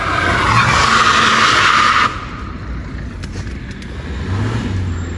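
Car tyres skid and squeal loudly for about two seconds, a sustained high screech that cuts off abruptly, leaving a lower rumble of an engine or traffic fading and swelling in the background.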